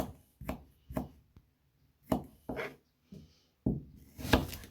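A small onion chopped with a knife on a board, sharp close knocks in uneven bursts of two or three with short pauses between, fairly quiet and without talk.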